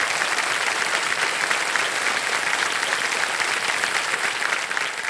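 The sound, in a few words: studio audience applause for contestant's daughter on KBC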